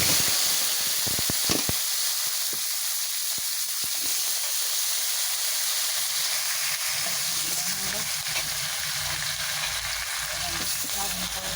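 Spices fry in oil in a pan with a steady, close hiss and sizzle that runs throughout, broken by a few sharp clicks early on, with no voices.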